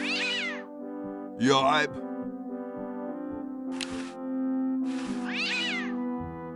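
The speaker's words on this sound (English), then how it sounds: "What a pretty pussycat." A cat meows in a few drawn-out, wavering cries over a continuous low hum, with someone talking between and around the calls.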